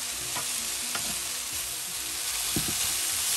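Jute leaves stir-fry in a pan in village style, a constant close sizzle broken by a few soft stirring scrapes.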